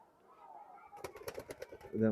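A pigeon close by gives a soft murmur, then a quick run of pulsing coos, ending on a louder, fuller note.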